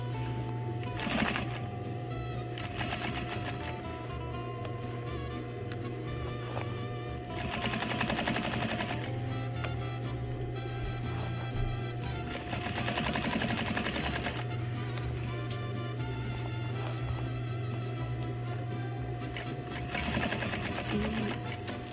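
A sewing machine stitches thread in steady loud running bursts, with a constant motor whir and rapid needle clatter pausing briefly between passes, continuing for over twenty seconds without any talking.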